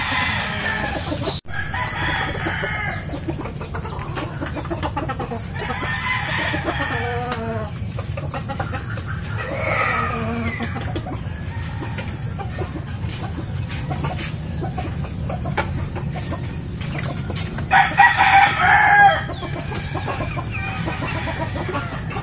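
Backyard chickens in a rural Philippine setting, with a rooster crowing and hens clucking near and far, the calls scattered over steady ambient noise and ending in a louder burst of squawking.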